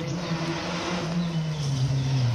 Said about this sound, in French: Porsche, c'est ça. Un beau petit V.